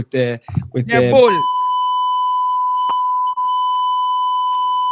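An electronic buzzer gives one steady, sustained beep that holds for several seconds, sounding clear and close, with someone talking just before it starts.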